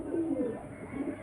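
Pigeons coo in a low, soft, rolling murmur, two or three throaty phrases close by over steady background noise.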